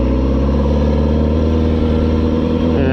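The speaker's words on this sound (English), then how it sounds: "This used to be one of my favorite things to do, just let the bike idle" A Kawasaki 636 motorcycle engine idles steadily and loudly at close range, a dense continuous throb with an even, pulsing rumble throughout and no voices.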